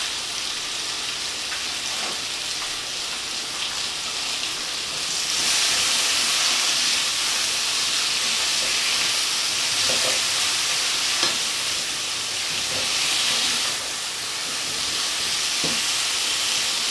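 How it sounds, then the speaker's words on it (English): Potatoes fry in olive oil with a steady, loud sizzle and hiss, broken by occasional scrapes and clinks as they are stirred around the pan, with no voices. "I'm going to just stir things up and let this cook"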